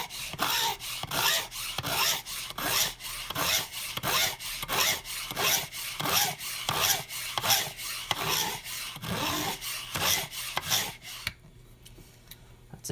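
A fret tang filer rasps across guitar fret tangs in a run of quick, even back-and-forth strokes, close and fairly loud, ending abruptly into near silence.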